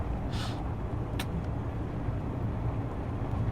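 A truck driving in the video game Ares at War, a steady engine and road rumble with a brief hiss of air and a short clank partway through.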